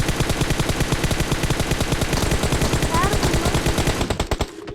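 Rapid automatic gunfire from a PUBG match rattles in a dense, steady burst for several seconds, loud and close, then cuts off abruptly near the end.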